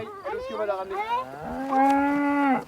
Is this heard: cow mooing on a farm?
yes